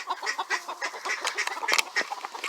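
Chickens and other poultry call from inside a cold enclosure, with a busy jumble of overlapping squawks and clucks close by and no talk over them.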